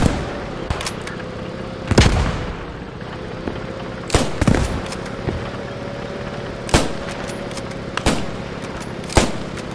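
Scattered gunshots on a North African battlefield in the shooter game Squad 44, single sharp cracks and heavier booms spaced a couple of seconds apart over a steady engine drone, some near, others more distant.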